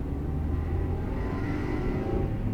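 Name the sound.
90s Honda Civic stock exhaust note while driving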